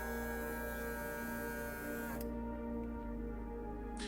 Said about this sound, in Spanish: la bomba funciona al activar la batería